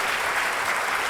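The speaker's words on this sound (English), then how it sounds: "I'm just going to jump in there with a round of applause" Brief audience applause at a business talk, a short burst of steady clapping about one second long at moderate level, with no voices over it.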